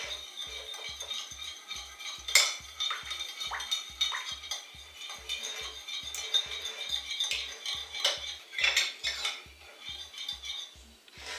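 Tropical salad mixed with utensils in a bowl, continuous clinking and scraping of cutlery against the dish, close, with a faint steady mechanical ticking underneath and no talk.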